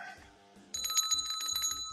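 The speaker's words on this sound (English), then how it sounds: "Ring the bell." A small bell is struck, giving a bright metallic ring about midway that sustains with repeated dings to the end, after a quieter muffled stretch at the start.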